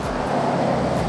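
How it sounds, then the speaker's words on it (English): Steady roar of car traffic on a nearby freeway, a continuous broadband wash of passing vehicles with no clear breaks, heard from alongside the roadway. "We're alongside a freeway"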